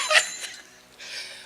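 A small handheld bell rung a couple of times at an awareness-week proclamation ceremony: a bright metallic ding at the start, a softer second strike, then a lingering shimmer toward the end, moderately close and with no voices over it.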